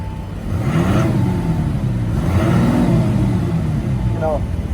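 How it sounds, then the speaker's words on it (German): A new Audi A6 starts in comfort mode with its Active Sound system on, giving rising and falling engine swells that repeat a few times under nearby conversation. "Fahrzeug startet mit Komfort."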